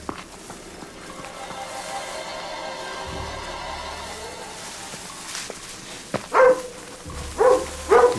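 A dog barks outdoors in a jungle-like setting, three sharp barks near the end after a stretch of rustling movement and footsteps.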